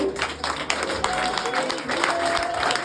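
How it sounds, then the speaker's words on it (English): A rousing round of applause from the audience for the High Commissioner at a ceremony, many hands clapping in a steady wash with a few sharper claps, a faint tone and murmur of voices underneath. "Now we are going to ask you to give the High Commissioner a rousing round of applause"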